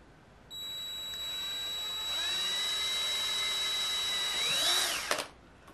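A power drill bores a small hole through a mount for an LED indicator on a 2021 Harley-Davidson Sport Glide motorcycle; a steady, close, whining motor drone holds for several seconds, its pitch shifting as the bit cuts through, then stops abruptly.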